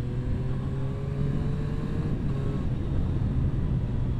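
A Triumph Street Triple 765 RS motorcycle engine under way with its quick shifter, a steady droning note with faint rising harmonics and wind buffeting, loud and close throughout.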